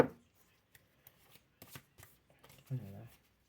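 Cards are shuffled and drawn for a card reading: scattered soft flicks and slaps of card stock, with a voice briefly speaking near the end.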